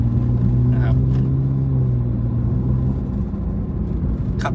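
Thai GK auto-shifter motorcycle with an SC exhaust pipe, ridden slowly: a low, steady engine rumble with even harmonic drone, fairly quiet and muffled, holding constant without revving.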